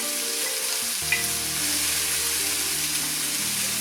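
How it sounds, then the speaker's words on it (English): Chopped carrots and celery sizzle and fry in a pan, a steady hiss that swells as the vegetables hit the hot oil and then continues evenly. "Just want to kind of get this to soften up and get some flavor to it."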